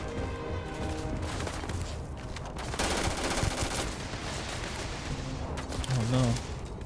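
Rapid gunfire from a sci-fi firearm in the Starfield video game, with a steady stream of shots throughout and a voice speaking briefly near the end.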